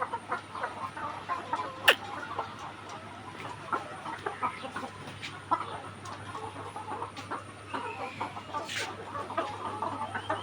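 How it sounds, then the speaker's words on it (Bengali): Rooster and laying hens cluck steadily on a poultry farm, with scattered calls over a constant low mechanical hum and no one talking. "এই যে আমার খামারে একটি মোরগ আছে।"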